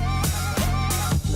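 A steady rhythm at 90 beats per minute sounds as loud, evenly spaced percussive hits about every third of a second over a sustained tonal bed, with no voice.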